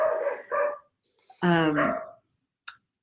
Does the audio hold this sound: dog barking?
yes